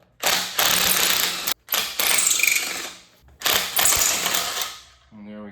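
Ratchet clicking rapidly as turbo flange bolts are removed from a 2013 Ford Taurus SHO engine, three loud close bursts of dense mechanical ticking broken by short pauses, then a brief faint tone.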